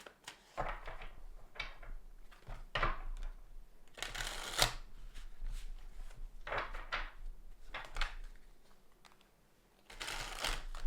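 Cards being shuffled in several quick riffling bursts, each a crisp fluttering rush, separated by short pauses, close and clear with no talk.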